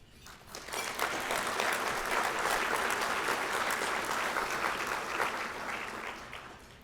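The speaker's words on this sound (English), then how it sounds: "it is only fitting to give them a round of applause as well" A room full of people claps steadily for several seconds for mothers at the Rotary Club of Harrisonburg 2025 Ethics Awards, swelling quickly and then tapering off.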